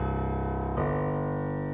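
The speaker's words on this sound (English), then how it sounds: "So that's our timpani phrase." Timpani phrase striking a low C, then dropping to a G: a loud sustained drum tone rolling on with a faint pulse, shifting to the second pitch partway through, alone with no talking.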